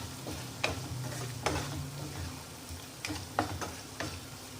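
Aloo parwal sabzi being sautéed in a pan: a quiet, steady background hum and faint sizzle, punctuated by a handful of light ticking scrapes from stirring.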